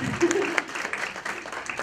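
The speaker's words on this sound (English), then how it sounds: "Let's give our balancers a round of applause." Short burst of audience applause at a conference for a pair of balancing volunteers, moderately close, with a voice speaking over the clapping.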